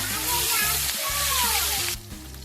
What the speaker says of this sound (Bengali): এবার মাছগুলো উল্টে পাল্টে ভেজে নেব